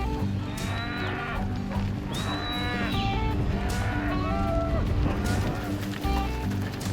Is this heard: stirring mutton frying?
no